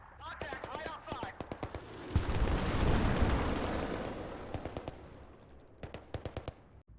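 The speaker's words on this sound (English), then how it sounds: "I'm also going to call in another airstrike" An airstrike in the Command and Control 3 war-on-terror strategy game hits as a loud, rumbling blast wave in the middle, framed by rapid bursts of sharp gunfire before and after, with voices faintly mixed in.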